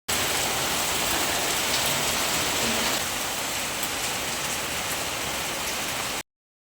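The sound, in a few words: heavy rain during a storm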